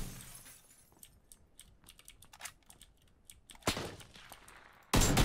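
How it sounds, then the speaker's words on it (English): PUBG gunfire heard through a wall, a few faint sharp cracks amid clicking keyboard taps, ending in a sudden loud shattering burst. "I just got shot through the wall."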